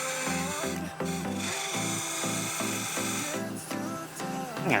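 A wood lathe turns a honey pot blank while a mid-size detailer tool cuts a tenon, producing a steady whirring hum broken by repeated rhythmic pulses of chatter from the cutting edge, close and continuous.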